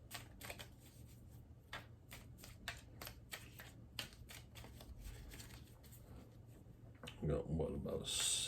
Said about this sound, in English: Let's shuffle through here another once or twice.